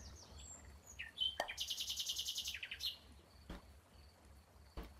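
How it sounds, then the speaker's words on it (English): Bright, rapid bird chirps and trills from the video game Golf With Your Friends burst out for a couple of seconds, then fade to scattered calls over a steady low hum, with sharp clicks now and then. "These birds are really loud."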